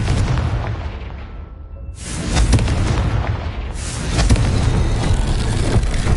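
Confringo blasting spell detonating in a PS4 video game: a loud, deep boom with a rumbling tail, then a second heavy blast about two seconds later, both with no talk.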